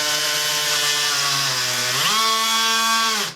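A DeWalt XTREME 12V oscillating tool (DCS353B) roughs up a surface with a loud, steady buzzing whine. The pitch rises partway through before the motor cuts off at the end.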